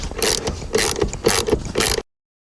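Ratcheting clicks from a wrench loosening rear seat bolts in a 2013–2017 RAM truck cab, coming in four close, loud bursts of rapid mechanical clatter over about two seconds.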